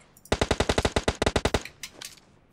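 Rapid automatic weapon fire in an online shooter game, a tight string of about fifteen evenly spaced loud shots followed by a few scattered fainter ones, with no talking.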